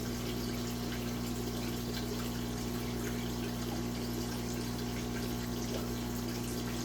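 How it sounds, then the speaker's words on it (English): A siphon draining water out of a corydoras breeding aquarium makes a steady, continuous wash of flowing water over a low, constant hum, with no talking and no change throughout. "we put a siphon in, and we're going to siphon the aquarium down"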